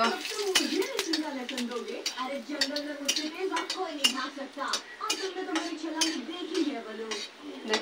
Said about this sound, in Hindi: थोड़ा सा तेल फिर से कढ़ाई में डाले हैं, ये लहसुन का कटा हुआ है, इसको डाल देती हूँ